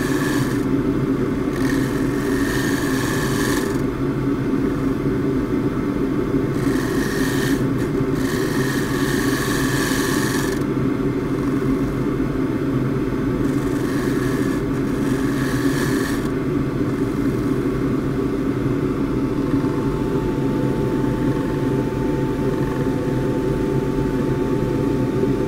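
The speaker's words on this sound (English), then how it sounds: "so I'll try the gouge, little arcing cuts." Gouge taking light arcing cuts into a eucalypt burl spinning on a wood lathe, a steady motor hum with rough broadband cutting bursts coming and going through the middle, close and fairly loud, no talking.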